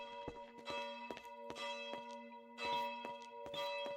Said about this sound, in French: je suis tellement content de ce son de cloche